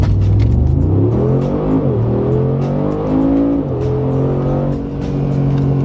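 A 2020 Mercedes-AMG G63 G-Wagon engine roars loudly and continuously as the SUV accelerates hard from 0 to 60, the pitch climbing through gear shifts, heard up close with no talk.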